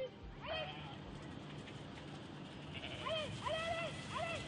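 Several sheep bleat on a farm, first one short call then a cluster of three or four wavering bleats close by, over a low background rumble.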